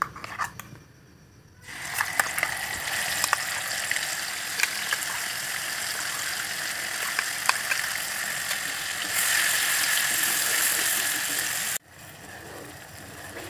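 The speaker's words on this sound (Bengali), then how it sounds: "সেটা আমি এই তেলের ভেতর অ্যাড করে ভেজে নেব" Blended spice paste for chilli chicken hits hot oil and fries with a sudden, steady crackling sizzle, broken by small clicks and a brief pause near the end, with no voices.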